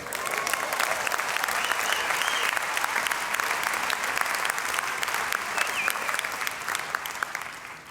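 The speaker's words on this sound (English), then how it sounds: "Round of applause for her." Convention audience at the 2019 CUPE National Convention breaks into loud, sustained applause for the NDP leader's speech, a dense crowd clapping steadily for about eight seconds before tapering slightly at the end.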